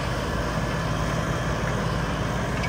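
A John Deere CRDI tractor's diesel engine chugs steadily at a near, even idle-like rumble, unbroken for a few seconds with no talking.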